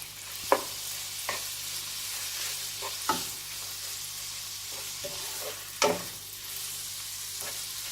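Boneless chicken cooks in butter with a little olive oil, a steady sizzle broken by several sharp scraping stirs of a spatula against the pan, no talking.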